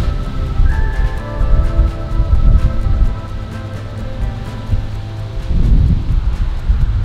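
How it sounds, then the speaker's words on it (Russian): Strong wind gusting outdoors in a suburban California town, a loud broadband rumble buffeting the microphone with surging gusts throughout, no talking. "Ужасно ветреная погода"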